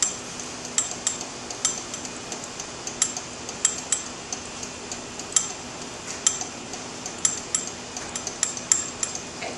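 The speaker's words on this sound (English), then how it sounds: "Keep stirring." A utensil stirs and whisks homemade mayonnaise in a bowl while oil is added, producing a steady series of light clinks and ticks against the bowl at a quick, even rhythm, close and moderately quiet with no talking.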